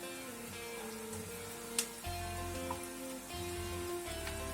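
A soft sizzle from a hot pan of chicken continues, with a brief clatter as julienned carrots are tipped in and the frying sound picks up.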